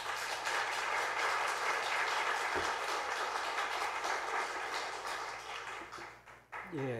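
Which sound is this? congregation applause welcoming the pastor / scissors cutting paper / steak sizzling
congregation applause welcoming the pastor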